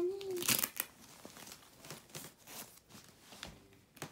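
Polka dot children's pants being folded and packed into a bag for a summer trip, with soft fabric rustling and crinkling of the bag in short bursts, close up, with no talking.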